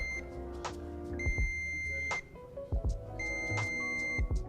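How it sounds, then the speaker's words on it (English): A La-Z-Boy power recliner chair answers its Find Me button with bright electronic beeps, two sustained tones about a second long and a short blip, fairly close and clear over a faint room hum. "you're going to press on that, and it's going to beep at you."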